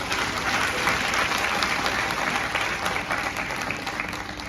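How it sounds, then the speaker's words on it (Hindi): An audience in an auditorium at a motivational speaking event gives sustained, dense applause, many hands clapping steadily and loudly for the full few seconds, with no speech. "एक जोरदार और जबरदस्त तालियों के साथ।"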